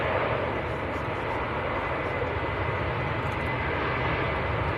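An Aer Lingus airliner bound for JFK roars continuously at Manchester Airport, a loud, steady, broadband engine rumble with no break throughout.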